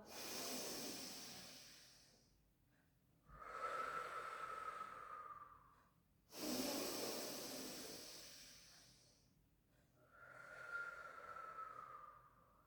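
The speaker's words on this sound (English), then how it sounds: "in through the nose, out through the mouth" Slow, deep breaths are drawn in through the nose and pushed out through the mouth during a gentle pilates barre session: two full cycles of long, airy inhales and hissing exhales, close and quiet, with no talking.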